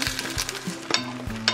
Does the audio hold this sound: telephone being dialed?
no